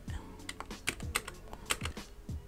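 Rapid typing on a computer keyboard in a VIM text editor, a steady run of close, crisp key clicks with a few heavier thumps, no talk.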